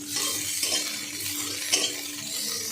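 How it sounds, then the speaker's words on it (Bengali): Raisins sizzling in ghee in a pan for zarda pulao, stirred with a utensil, making a continuous frying hiss with a few light scrapes and clinks. "কিশমিশ কিন্তু খুব তাড়াতাড়ি ভাজা হয়ে যায়,"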